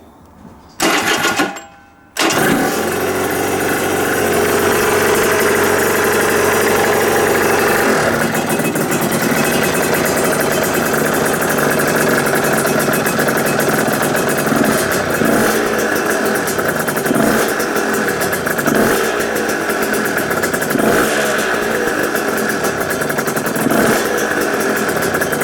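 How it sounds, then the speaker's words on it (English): A 1998 Aprilia RS125 two-stroke motorcycle, just reassembled after power valve maintenance, coughs into life after a brief start attempt, then runs loud and close with a steady, buzzing idle and repeated revs. "So let's start her up."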